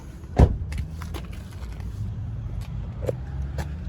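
Toyota Sahara engine shut off, then door and cabin sounds as the driver climbs out: a sharp thunk near the start, faint low idle-like rumble, and scattered light clicks and knocks close by, with no talk.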